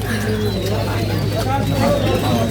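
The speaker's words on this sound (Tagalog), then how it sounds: "Magpapakain na kami ng mga seagull." Seagulls gather at feeding time, their calls rising over a steady crowd murmur and nearby voices that continue throughout.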